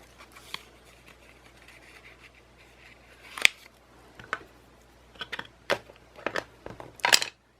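Scissors cut a paper hummingbird piece for a collage, making a few soft, close snips and crisp crunches that grow denser toward the end over quiet room tone, with no talking.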